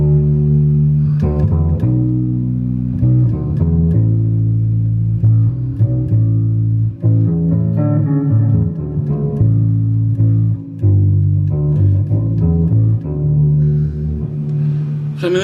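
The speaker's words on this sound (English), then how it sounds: "that's a pretty big bass emulation sound" Electric guitar set up to emulate a bass, played through a PV cabinet, giving a deep, thick low line of sustained notes, loud and steady, with no talking over it.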